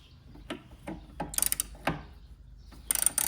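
A ratchet wrench works on the bolts holding a lawn mower carburetor. Several sharp, close clicking bursts come in irregular groups, with quiet gaps between them.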